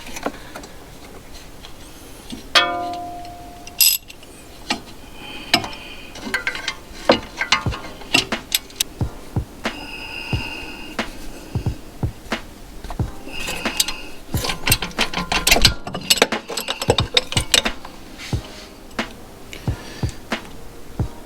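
Ratchet clicking in short bursts while bolts are backed out of a BMW suspension bracket tied to the spindle bolt, with close metallic ticking, clanks and tool knocks throughout, no talking.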